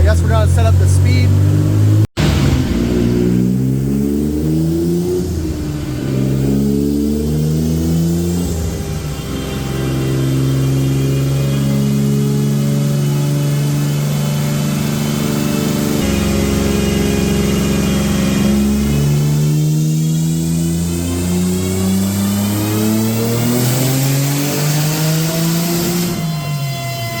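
A 900+ wheel-horsepower Nissan 300ZX engine runs on a dyno, climbing through repeated revs and falling back to a rough idle, loud and close, while people talk over it.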